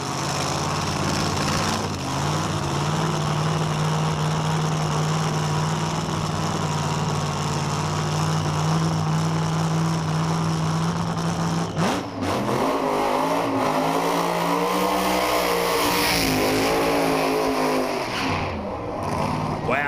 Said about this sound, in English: John Canuli, about to come forward in the Nova LED funny car